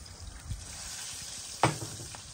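Meatballs frying in oil on a wood-burning kitchen stove give off a soft, continuous sizzling hiss, with a couple of faint pops and stirring knocks over the steady crackle.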